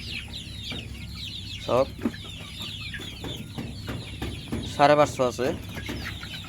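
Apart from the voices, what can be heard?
Sonali chickens clucking on a farm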